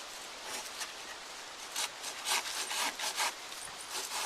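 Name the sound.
sawing a wooden walking stick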